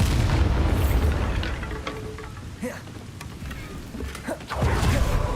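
A Bombarda blasting spell erupts in Hogwarts Legacy with a loud low boom at the start, then crackling debris and scattered smaller impacts, and a second heavy thump near the end.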